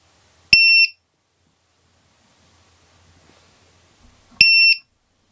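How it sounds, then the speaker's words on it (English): A ViFly lost-drone beeper, a large model with a big sounder, lets out two loud, piercing electronic beeps, each about a third of a second long and roughly four seconds apart, with near silence between them. "ViFly is big, and that's because it has a big sounder."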